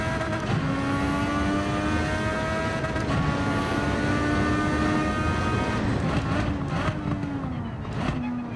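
A race car engine in Gran Turismo 7 screams at high pitch, shifting up through gears with rising whines, steady and continuous, ending with a drop as it slows.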